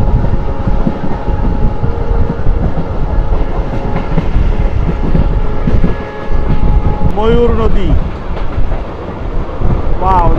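A six-coach Mongla commuter train, linking a land port to a seaport, rumbles loudly and steadily along the track with a clattering drone and a few brief whining tones, while someone talks over it.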